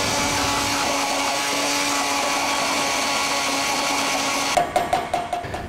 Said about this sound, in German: Zum Schluss kann man das, wenn man möchte, noch pürieren.